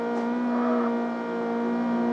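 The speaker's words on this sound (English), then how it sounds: "That's so VTEC kicking in, man." A car engine revs hard in the CarX Street racing game as VTEC kicks in, a loud, steady high-pitched drone held close and alone for about two seconds.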